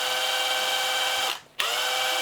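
A Makita sub-compact impact driver runs with a steady high whine, cuts out briefly, then restarts with a soft-start ramp back up to a constant buzz, heard close and alone.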